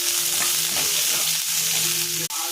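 Onion and curry leaves sizzle and sauté in a pan for a chutney, a steady close frying hiss with stirring scrapes and one sharp click near the end, with no voices.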